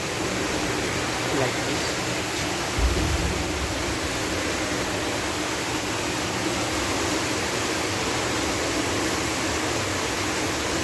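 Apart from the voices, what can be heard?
water flowing through a hydraulic flume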